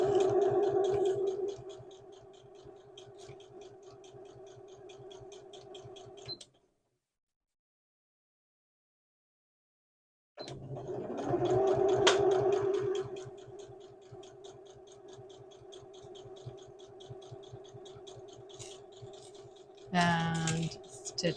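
A sewing machine stitches a blouse seam in rapid, even mechanical ticking bursts, with a pause of silence midway before stitching resumes and a brief rustle at the end, close and moderately loud.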